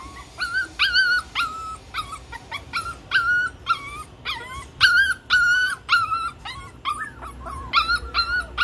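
Several abandoned puppies in a vacant lot give high, wavering whimpers and yips, close and repeated in short bursts with brief pauses between them.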